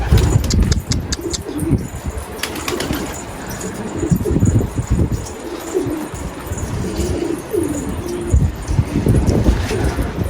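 Soft pigeon cooing and a few chirps repeat through steady background noise, with occasional rustling and faint bird calls close by.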